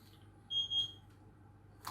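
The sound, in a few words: cooker timer beeping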